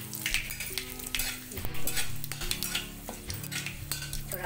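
Panch phoron spices, a bay leaf and cardamom frying in hot oil in a pan, with a steady close sizzle and crackle, a few clinks of a utensil against the pan and light stirring throughout.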